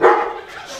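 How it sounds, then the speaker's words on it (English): A single short dog bark rings out close by, loud at its onset and quickly fading, in a farmyard setting. "Got dogs barking."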